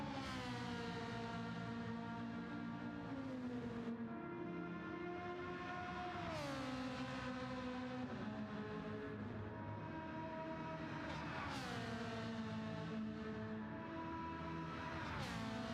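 A GT3 race car engine in a sim racing game at Spa howls loudly and continuously, the pitch dropping in stepped falls on downshifts and then climbing again as it works through the gears.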